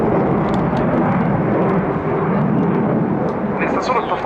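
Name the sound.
Dassault Rafale C fighter jet flying at airshow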